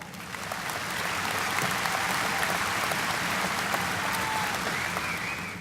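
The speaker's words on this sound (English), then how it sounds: "Let's give another round of applause to our student speakers as they did a fantastic job." A graduation audience at a high school ceremony applauds its student speakers, with broad sustained clapping that swells in over the first second and stays loud and steady.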